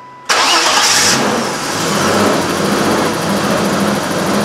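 A 1988 BMW 325 with a dead battery cranks briefly and fires up, then settles into a loud, steady idle with a rough, rumbling engine tone close by.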